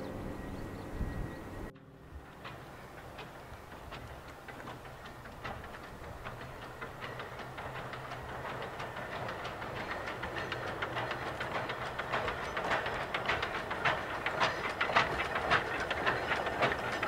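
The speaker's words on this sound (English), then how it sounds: "Here are a few clips of trains passing under the bridge." Trains passing beneath a road bridge, rumbling and clattering as the sound builds steadily from fairly quiet to louder over the clip, with rhythmic clickety-clack and a brief cut near the start.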